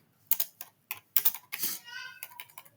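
Close, crisp clicking of fingers typing on a computer keyboard, in short irregular bursts of keystrokes with brief pauses between them.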